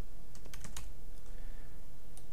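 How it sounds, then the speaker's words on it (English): Computer keyboard keys clacking in a quick burst of several taps, then a pause and one more tap, close and clear with no talk. "So I'm going to go Control V on my keyboard to paste what was copied to my clipboard"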